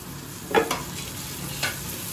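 Finely chopped onion and garlic cloves frying in a pan, with a continuous soft sizzle broken by a few quick scrapes of a spatula stirring.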